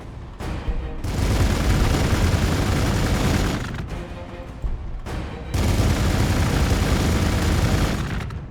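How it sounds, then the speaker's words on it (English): Gunfire and explosive booms from the strategy game Warhammer 40,000: Gladius, loud dense volleys in two long bursts separated by a short, quieter lull, with heavy low rumble throughout. "Might as well shoot this guy."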